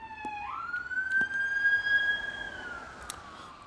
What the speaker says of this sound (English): Gonna let the siren pass.